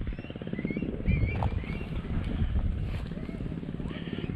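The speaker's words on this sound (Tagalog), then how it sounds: "Kaya lang napakalakas ng hangin." Strong wind buffeting the microphone on a boat over clear water during a fishing trip, a heavy low rumble that surges and gusts, with someone talking over it.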